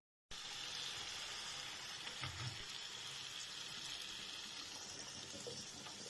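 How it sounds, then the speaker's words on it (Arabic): Water pours steadily into a cooking pot of zucchini with meat, making a continuous close gushing splash from start to finish. "حط شوية مية كده اهو"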